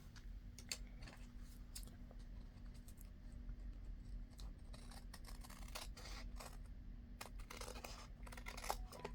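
Close scissors trim around paper clouds for an altered index card craft, a steady run of crisp snipping clicks over a low constant hum, with no talking.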